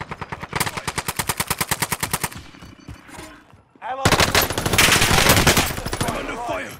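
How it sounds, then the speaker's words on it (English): Machine gun fire in the video game Call of Duty: Modern Warfare, loud rapid bursts of evenly spaced shots, a short lull, then a denser overlapping volley with other gunfire. "I'm under fire."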